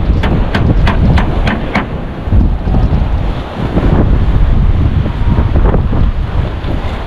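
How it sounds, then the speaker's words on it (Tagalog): Strong wind buffets the microphone on a sandy beach during heavy monsoon weather, a loud continuous roar with crashing surf beneath and a few sharp gusts early on. "Lakas ng hangin."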